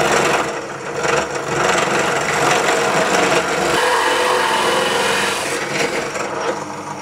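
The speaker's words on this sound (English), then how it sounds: "Switch on and drill away." An electric drill bites into a wooden chair seat up close, a loud continuous grinding whir with rough, scraping texture that shifts slightly as it bores.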